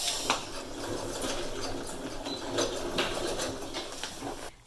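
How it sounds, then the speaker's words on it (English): A sewing machine stitching a headband onto a face shield made from a shower curtain, with a steady close mechanical whir and rapid needle chatter running throughout and no talking. "Completely sew the headband to the shield."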